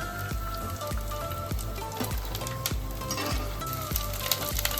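Edible gum (gund) frying in hot oil for gund paak, a steady crackling sizzle with regular soft tapping beats throughout, close and continuous with no talking.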